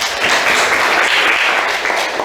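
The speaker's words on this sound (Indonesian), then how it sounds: "Oke, tepuk tangan dulu untuk si Tinza." A class of students applauding a classmate, steady dense clapping filling the room, close and loud from start to finish with almost no talk.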